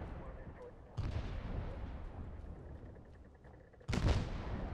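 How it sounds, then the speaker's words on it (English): Two heavy mortar shell impacts in ARMA 3 S.O.G. Prairie Fire land about three seconds apart, each a booming crump with a rumbling tail amid ongoing battlefield noise. "mortars are dropping everywhere"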